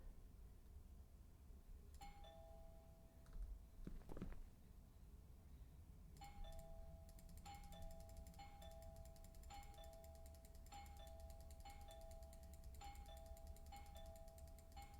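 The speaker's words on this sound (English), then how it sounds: "I should just ring the doorbell" Doorbell ringing in a video game, a two-tone chime heard once early, then rung repeatedly in a quick series of electronic ding-dongs over quiet ambient room tone.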